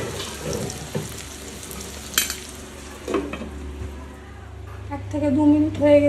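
Tomatoes and onions cook under a lid in a covered pan, giving a steady, muffled sizzle and low bubbling close by, with a faint hum underneath.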